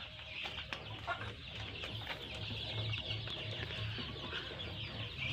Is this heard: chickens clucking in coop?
yes